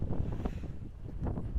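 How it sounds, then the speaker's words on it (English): Strong wind buffets an outdoor microphone near the top of Haystacks fell in wet, rainy weather, a continuous loud low rumble with gusty surges and no voices. "it's just so windy and rainy"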